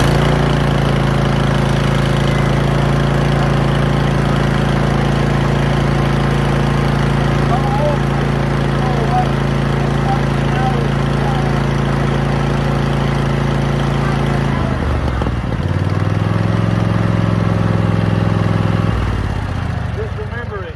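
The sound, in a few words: lawnmower engine running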